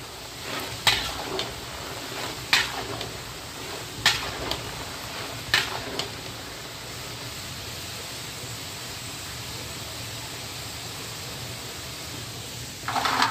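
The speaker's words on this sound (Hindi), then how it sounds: "ये फ्राई हो रही है।" Potato chips frying in hot oil, a continuous soft sizzling hiss punctuated by four sharp clinks in the first half and another at the end.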